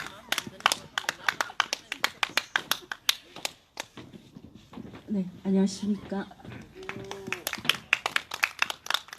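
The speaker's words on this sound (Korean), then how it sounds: "큰 박수로 맞이해 주시면 고맙겠습니다." A small crowd at a candlelight rally claps to welcome a performer, loose individual claps at close range, pausing briefly while a man greets them, then resuming.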